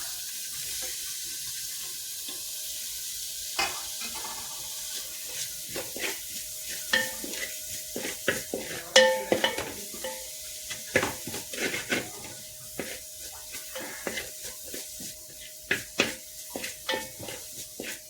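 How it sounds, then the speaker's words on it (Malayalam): Capsicum stirred in hot oil in a pan, a steady sizzle with repeated scraping stirs that grow busier and louder toward the end, close and alone without voices. "ഇനി നമുക്ക് ക്യാപ്സിക്കം ഇട്ട് കൊടുക്കാം."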